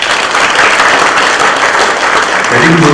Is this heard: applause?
yes